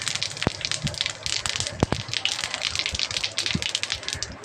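Cumin seeds hit hot oil for a mixed-dal tarka with ridge gourd, giving a close, dense crackle of quick pops and sharp snaps over a low sizzling hiss.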